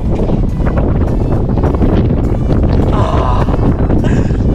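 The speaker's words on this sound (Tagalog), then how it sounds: "Ang lakas ng hangin mga kagiliw." Strong wind at the Pingxi Crags in Taiwan buffets the microphone in a constant loud roar, with faint voices and flapping sounds barely audible underneath.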